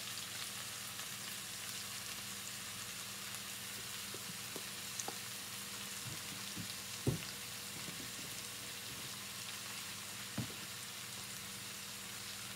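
Chicken sears in a pan with a constant, even sizzle and a few faint clicks, no talking.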